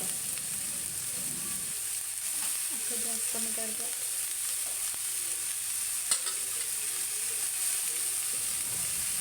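Daudi flowers sizzle steadily in a spiced kadhai while a spoon stirs and scrapes them now and then, a close, continuous frying hiss with no talk.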